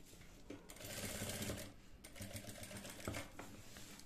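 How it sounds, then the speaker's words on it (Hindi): An electric sewing machine stitches lace along the neckline edge of a garment for a gota patti design, a close, continuous rapid whirring with short surges and slowdowns, with no voices. "किनारे किनारे सिलाई लगानी है।"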